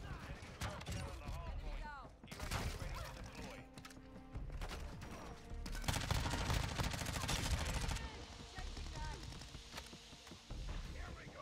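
Gunfire rattles through a Modern Warfare 2 multiplayer match on a hill objective, with loud overlapping bursts and single booming shots that carry on steadily under a player's talk.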